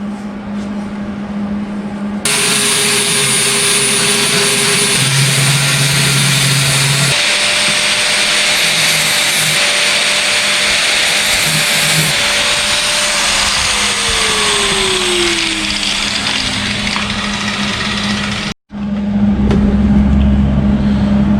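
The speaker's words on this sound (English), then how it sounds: "I'll hit it with the flappy wheel and we'll see what we got now." Flap wheel on an angle grinder grinding down a weld in a home garage, a loud steady whine running continuously for about sixteen seconds with shifting pitch as it bears on the metal, briefly cutting out then restarting.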